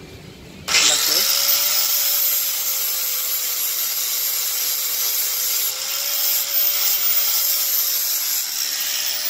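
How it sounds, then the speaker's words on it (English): A power grinder with 80-grit abrasive runs continuously on trailer disc brake parts, a loud, steady high-pitched whine that starts abruptly and holds with slight load changes. "you put it down and you grind it a little bit with grit 80"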